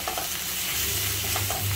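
Ginger garlic onion paste with turmeric, garam masala, cumin, coriander and red chili powders fries in a pan, a dense close sizzle with a few soft stirring scrapes in a short burst.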